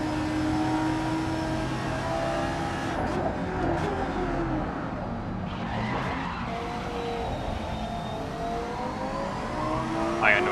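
A race car laps a circuit in GSPS Race 7. The engine note climbs and falls through the gears, with tire squeal and skidding through the corners, loud and close throughout.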